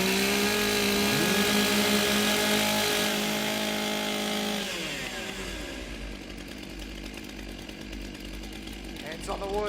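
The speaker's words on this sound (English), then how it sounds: "Warm up your saws." Chainsaws warm up before a STIHL Timbersports Australian Women's Championship race, a loud, steady engine whine with shifting revs that drops in level partway through, under an announcer's voice.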